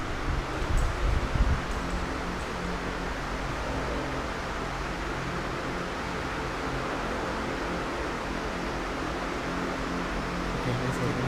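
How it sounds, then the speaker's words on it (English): Inside an elevator rising to the 12th floor, a steady low mechanical hum and airy drone persist evenly throughout, with a brief soft rumble near the start and no talking. "I'm going to take this elevator to 12th floor"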